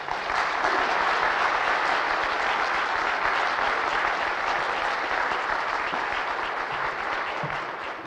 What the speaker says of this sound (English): give him a round Nova Scotian applause